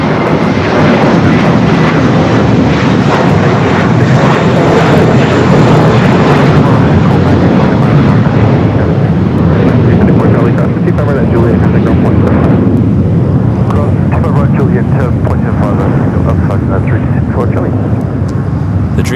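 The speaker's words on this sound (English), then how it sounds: "the Dreamliner pushing back there on the north side." A Polish Airlines Dreamliner at LAX, engines roaring as a loud, broad, continuous rumble that holds steady and then thins slightly toward the end, with a voice talking over it.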